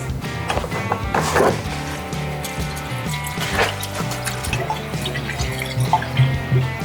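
Coolant pours into the engine block of a Pontiac station wagon, with gurgling, dripping and splashing liquid sounds mixed with a few knocks and taps, close up and moderately loud.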